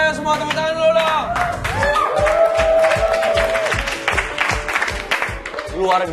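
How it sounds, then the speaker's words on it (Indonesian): An audience claps in a rhythmic, repeated beat, with cheering voices and musical tones mixed in. People talk and shout over the clapping throughout. "Semua tepuk tangan dulu dong."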